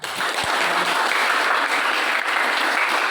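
A computer and informatics class breaks into applause after a group discussion, a thick, continuous burst of clapping from many hands nearby that lasts the whole moment without speech.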